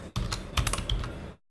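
A quick burst of typing on a computer keyboard, a dozen or so close, crisp key clicks in rapid uneven rhythm lasting about a second, with no voices.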